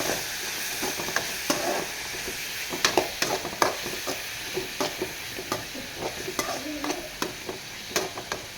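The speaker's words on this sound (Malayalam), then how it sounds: "നല്ല നല്ലപോലെ ഇളക്കി കൊടുക്കാം" A spoon scrapes and stirs chopped mushrooms for thoran in a pan, producing soft, irregular clinks and scrapes over a faint steady sizzle.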